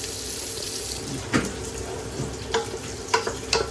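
Onions are being lightly fried in a pan for a fish curry, giving a steady low sizzle with a few sharp clinks and stirring knocks scattered through it, and no voices.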